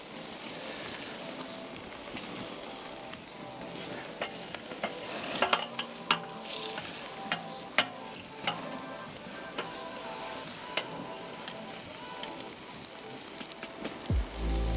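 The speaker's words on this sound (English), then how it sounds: "literally I'm just looking to sear these" Steak seared on a Weber charcoal grill, a steady close sizzle and crackle with scattered sharp pops and spits running throughout, no voices.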